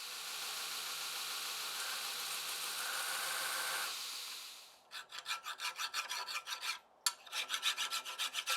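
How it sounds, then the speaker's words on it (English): A knife bolster on a hand-forged integral camp knife is filed against a file guide: a steady rasp first, then a run of rhythmic back-and-forth strokes with one brief pause, close and fairly quiet. "I'm going to go and stick a file guide on this bolster and see if I can get my shoulders flattened up"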